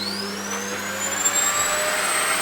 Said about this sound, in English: get them out by vacuuming